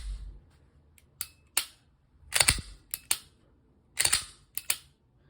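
An FN 509 Compact Tactical 9mm pistol being function tested, sharp isolated mechanical clicks and snaps of slide and trigger, close up and spaced irregularly with short pauses, no voices.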